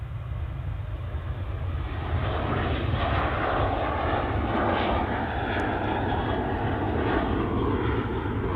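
An airliner takes off at Manchester Airport, its jet engines producing a loud, sustained roaring rumble close by that holds steady and grows fuller as it climbs away.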